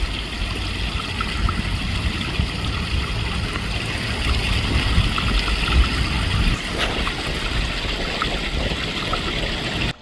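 Steady rushing waterfall on a rural property, a continuous broadband roar of falling water heard close and loud throughout, with a slight shift in texture partway through and no speech.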